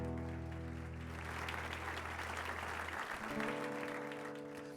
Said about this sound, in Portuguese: Dá uma salva de palmas a Ele.